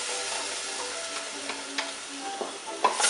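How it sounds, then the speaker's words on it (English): A spoon stirs tomato paste into plant-based chili beans in a pan, giving soft scraping and sizzling with a few sharper clicks against the pan. No one speaks. "you go ahead and stir it in because you wanted to get that liquid at the bottom of the pan"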